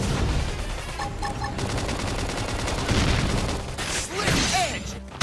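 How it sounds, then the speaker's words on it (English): A flame grenade bursts in busy Xenoblade Chronicles X combat, a dense crackling, roaring blast churning over steady battle noise, with a fiery swell late in the moment. "Flame grenade."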